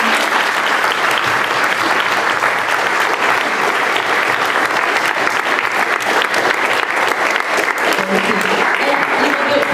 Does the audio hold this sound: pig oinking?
no